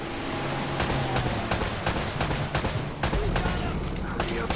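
Rapid gunfire in the video game Uncharted, sharp repeated shots in irregular bursts over a steady layer of game noise and music, loud and fairly close throughout.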